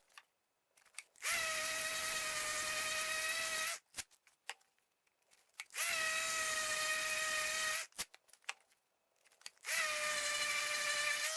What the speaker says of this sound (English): And then go ahead and sand up to 320.